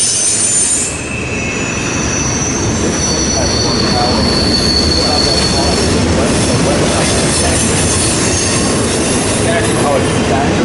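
A westbound train rolls steadily past on the Fort Wayne Line, loud and close, with continuous rumbling wheels and long, high-pitched squeals throughout, unbroken by talk.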